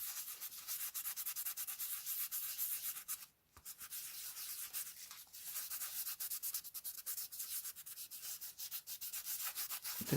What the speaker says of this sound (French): Donc je mets un coup de ponçage, je fais un coup de ponçage.